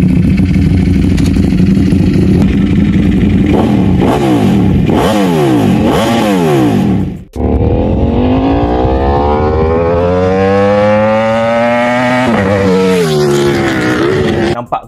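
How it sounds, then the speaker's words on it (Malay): A V4 motorcycle engine revs hard, rising and falling blips in quick succession, then a brief cut before a long climbing rev that sweeps up and holds, loud and close. "Yang ini pula bunyi enjin V4."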